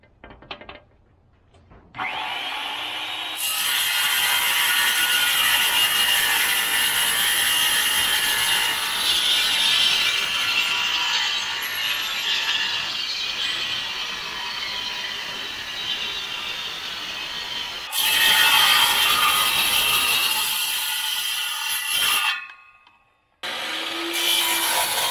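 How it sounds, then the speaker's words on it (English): Circular saw (skill saw) cutting through a piece of wood outdoors, a loud sustained whining rasp lasting many seconds, briefly pausing before a second short cut, close to the listener with no talk. "I'm gonna go outside with the skill saw and cut out what I need off of this piece"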